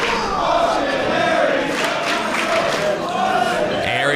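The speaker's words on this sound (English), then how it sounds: "the crowd here in Atlanta, again, showing their support for Austin Aries." Wrestling crowd in an Atlanta arena cheering in support of a wrestler during a DGUSA title match, a loud, steady roar of many voices with shouts rising through it, lasting the whole stretch.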